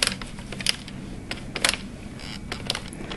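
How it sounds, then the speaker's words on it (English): An addi knitting machine working a thin sock yarn that won't stretch, giving faint, close mechanical clicking and ratcheting with irregular sharper clacks over a low hum, no voices. "as you can hear, the machine has to work because it's not stretching this yarn"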